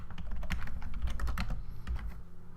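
Fingers type quickly on a computer keyboard close by, giving a dense, irregular patter of key clicks with no pauses and no talking.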